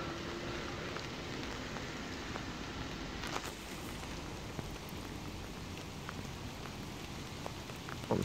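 Steady rain pattering over an outdoor railway station at Dalmeny on the Fife Circle Line, a dense continuous hiss of drops on surfaces with a few sharper splashes, close and unbroken throughout.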